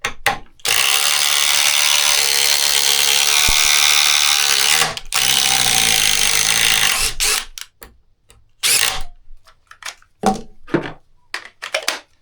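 A DeWalt 840 XR impact driver set to its 1.7 setting hammers a fastener in one loud, continuous burst of about four seconds, then a second run. Scattered clicks and handling noises follow.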